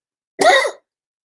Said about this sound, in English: And now I have to cough.